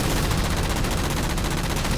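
Rapid automatic gunfire from the Halo 4 video game, fired at jammers, sounds as a dense, loud, continuous stream of shots with a fast, even rhythm throughout.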